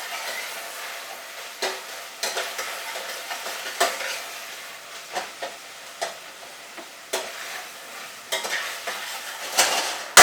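Dried crushed chilli, garlic and bacon sizzle in a frying pan while a utensil stirs and scrapes, giving irregular clacks and scrapes over a steady, soft frying hiss.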